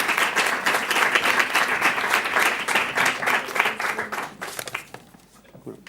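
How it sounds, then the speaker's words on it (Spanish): An audience at a lecture gives the invited speaker a strong round of applause, dense, even clapping for several seconds that thins out and stops. "Un fuerte aplauso."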